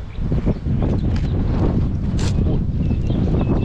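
Strong gusty wind buffets the microphone outdoors beside a beehive, a loud continuous roar with faint rustling and bumps, no speech.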